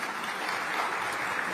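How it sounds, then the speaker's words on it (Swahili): Dense, steady applause from an audience honouring a guest of honour at a World Kiswahili Day celebration at UNESCO in Paris, a continuous wash of many hands clapping throughout. "ningeomba kutumia nafasi hii kuwaomba wakupigie makofi mengi sana"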